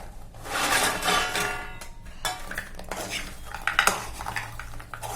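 A utensil stirs fried wheat-flour gavvalu in a metal pan after the stove is turned off, with repeated scraping and clinking strokes, close and fairly busy, with no talking.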